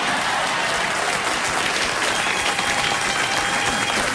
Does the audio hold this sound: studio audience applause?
yes